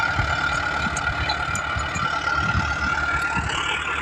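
A tractor engine idles steadily throughout on a farm field before ploughing, a constant low mechanical rumble with no voices.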